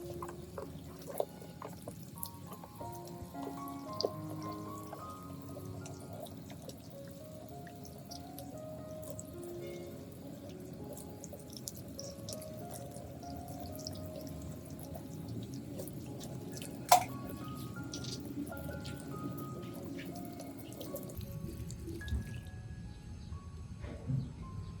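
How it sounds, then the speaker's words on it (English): Clean water runs and drips as the base of a trimmed orchid is rinsed, a steady faucet-like trickle with faint drips under a soft background tone, no talking. "I rinse the base clean with clean water."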